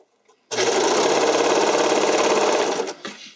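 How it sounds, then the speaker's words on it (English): A sewing machine stitches a stretched figure skating skirt, running as a loud, close, continuous rapid whirr for about two and a half seconds before slowing and stopping. "I'm just going to stretch it and sew."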